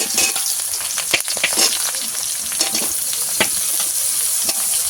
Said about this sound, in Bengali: ভালো ভেজে নেব আলুটাকে তারপরে আলুটা ভেজে নিয়েছি